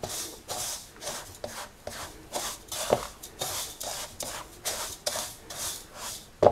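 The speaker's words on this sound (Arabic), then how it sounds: "نقلب المكونات الجافه دي مع بعض كده، نخلطها كويس." Dry basbousa ingredients being stirred and mixed together in a bowl, giving a steady run of soft, rhythmic scraping strokes, close and fairly quiet, with no talking.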